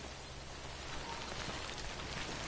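Steady hiss of video game rain falling, an even wash of noise with no voices, brief and uniform.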